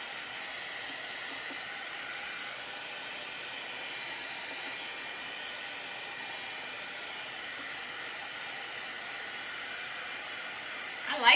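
A dryer blows to dry paint on a craft project, giving a steady, moderately loud airy whoosh and hiss that keeps on without change, with a brief bump at the very end.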